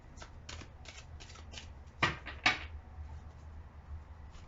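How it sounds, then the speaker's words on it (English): Tarot cards are shuffled in quick repeated riffles, a soft papery flutter of about eight short bursts with two sharper snaps near the middle, close and quiet with no talk. "A couple more shuffles."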